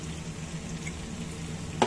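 Brinjal and masala frying in a pan, a low, even sizzle with soft stirring, ending in one brief sharp clink near the close.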